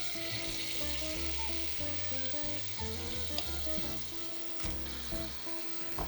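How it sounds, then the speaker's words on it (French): Pork pieces sear in melted butter in a pan with a strong, steady sizzle and occasional sharper pops, close and continuous without speech. "Alors on fait bien saisir nos morceaux de viande."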